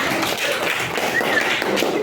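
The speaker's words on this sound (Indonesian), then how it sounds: "Ya, tepuk tangan." A school class claps hands during a lesson, a short burst of quick, close, uneven clapping with a little background chatter.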